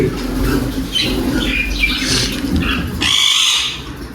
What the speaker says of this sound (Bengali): এই হচ্ছে ককাটেল, এই হচ্ছে বাজিগার গুলা